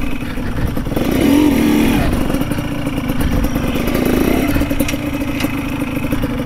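A motorcycle engine labors on a rough road of the Buenavista Logistical Highway, a steady mid-pitched drone with a brief rev, clattering close and loud throughout.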